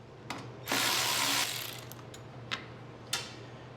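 Ratcheting wrench backing out 10 mm or 3/8 bolts on a snowblower's transmission belt cover: a sustained burst of dense ratchet clicking, followed by two short, sharp metallic ticks, close up with no talking.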